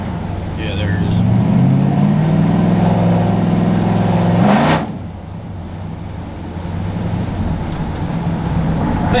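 A 1966 Ford truck with a swapped-in 392 Hemi V8 revs loudly from inside the cab, its deep growl rising for several seconds before dropping to a steadier low rumble, with voices heard over the engine.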